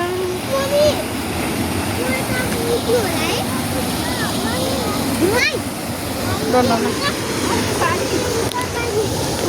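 A river stream rushes and splashes in a steady broad wash of water, close and continuous, while children and adults talk and call out over it.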